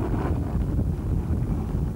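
Gust of wind over a lake, a continuous low rumbling buffet of air with no pauses, dense and fairly loud across the whole stretch.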